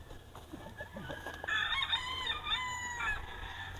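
A rooster crows at a gamefarm where brood stags and cocks are kept, a loud drawn-out call rising then holding, over a busy background of other fowl clucking and farm noise.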